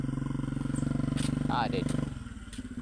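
A motorcycle engine runs close by with a throbbing, pulsing putter as a novice rider works the throttle; the note rises slightly and then eases, while a person briefly speaks over it.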